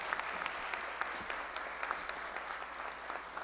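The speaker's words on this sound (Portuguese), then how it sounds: "uma forte salva de palmas para todos vocês agraciados" Quiet but steady applause from an audience at a solemn ceremony for a chaplaincy college, many hands clapping in an even patter heard from some distance.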